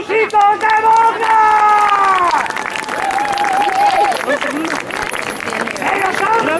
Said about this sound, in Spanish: Un fuerte aplauso a los músicos de Boca